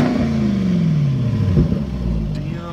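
A Jaguar car's engine revs loudly nearby at a car wash, a rising then falling roar that drops in pitch before easing off, with people talking over it.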